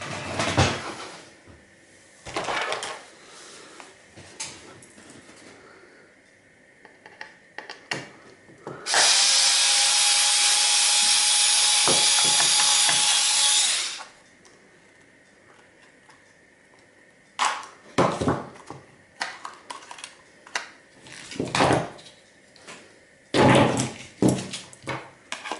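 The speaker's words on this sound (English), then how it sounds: "We have a few screws to remove." Screws being removed from a weighing scale's circuit board, scattered clicks and plastic handling noises, then a loud continuous power-driver whir for about five seconds, followed by more rattles and knocks close up.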